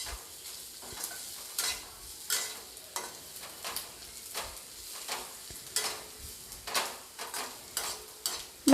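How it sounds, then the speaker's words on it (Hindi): Ginger and garlic fry in a little oil in a pan for a potato-cabbage dish: soft, fairly quiet sizzling broken by regular scraping strokes of a spoon stirring, with no voices. "अब मैं इस अदरक और लहसुन को भी लगभग आधा मिनट तक, हाफ मिनट मैं इसको फ्राई कर लूँगी"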